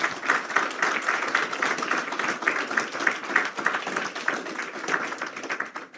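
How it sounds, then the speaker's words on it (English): Graduates at a graduation ceremony for a machining and welding technical class clap for themselves, a lively crowd of hands applauding steadily and fairly close throughout. "please clap for yourselves right now"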